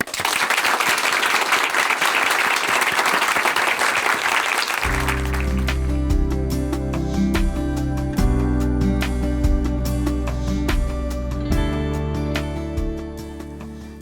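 A crowd applauds steadily at a Korean church testimony broadcast, dense clapping for about five seconds before it gives way to loud music.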